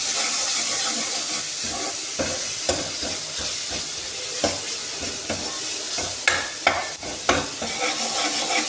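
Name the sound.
stirring frying potato and eggplant with a spoon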